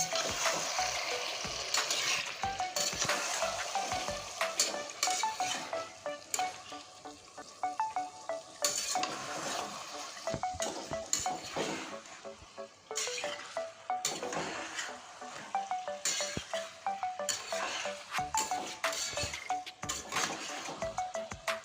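Fried chicken is stirred and sautéed in curry spices in a pot, a continuous sizzle broken by frequent clinks and scrapes of a utensil against the pan, close and busy, with no speech.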